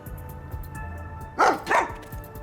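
Two quick, sharp barks from a dog in the video game Rain Code ring out close and loud over a quiet, faintly ticking background.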